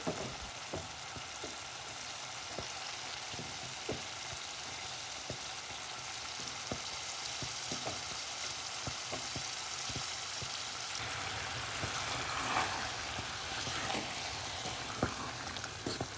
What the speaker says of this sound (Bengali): মশলাটা কষানো হয়ে গিয়েছে, এখন এতে দিয়ে দিব সে ধুয়ে রাখা লইট্টা মাছগুলো